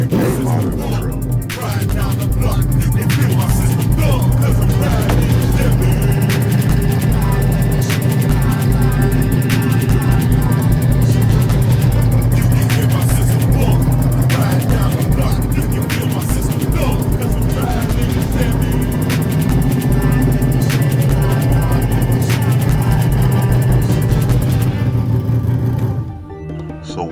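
The ProCharger-supercharged 6.0 V8 of a 2006 Chevrolet TrailBlazer SS runs and revs, throaty and loud up close, before cutting off near the end.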